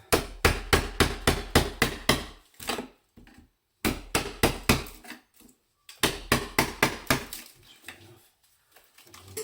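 Prying and knocking while a fire surround is removed, with a crowbar levered in: bursts of rapid, sharp rhythmic strikes close up, with pauses between bursts and a quieter scrape at the end.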